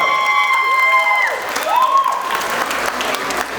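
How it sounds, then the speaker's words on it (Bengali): An audience applauds and cheers after a dance drama performance at a community festival event, loud sustained clapping while a voice talks over it through the speakers. "Another huge round of applause, please."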